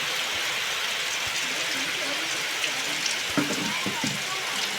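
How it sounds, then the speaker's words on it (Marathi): Heavy monsoon rain pours down steadily in Ratnagiri, a dense, even hiss with scattered nearby drips and splashes throughout. "पाऊस बघा किती जोरदार पडतोय"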